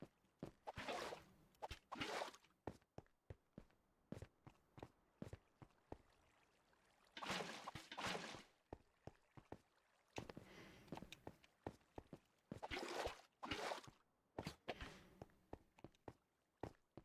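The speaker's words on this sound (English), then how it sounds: "I like all the ASMR bucket sounds" Minecraft bucket water sounds in a hardcore Bedrock survival game: repeated short splashy scoops and pours in bursts, interleaved with quick clicky taps, close and fairly quiet.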